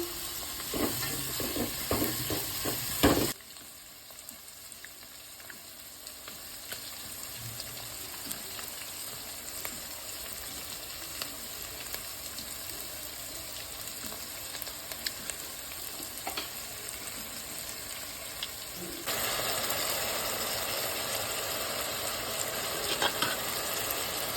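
Tamarind paste with salt fries in a pan, giving a steady close hiss and sizzle with faint stirring scrapes. The sizzle drops quieter after a few seconds and swells louder again near the end.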